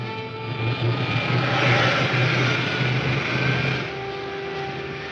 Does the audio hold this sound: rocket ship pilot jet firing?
yes